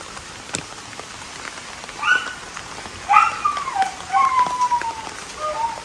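Steady rain patters down outdoors in a dense, even hiss, while a dog lets out a few high, drawn-out whines and yelps partway through, fairly close.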